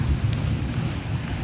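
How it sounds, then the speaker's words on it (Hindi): Rain falling in the mountains during a storm, a steady close wash of drops with a faint low rumble that may be thunder, no voices. "तब तक बारिश आ गई"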